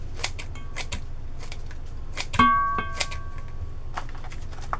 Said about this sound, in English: And yes, I use scissors to cut things.